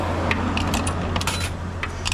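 Several coins dropping one after another into the slot of a coin-operated self-service car wash machine, sharp metallic clinks at irregular intervals over a steady low machine hum, close up.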